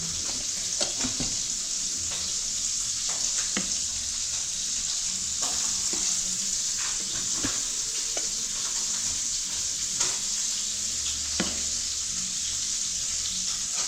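Bitter gourd sautéing in a pan sizzles steadily and close, with a constant bright frying hiss broken by scattered clicks and scrapes of stirring, no talk.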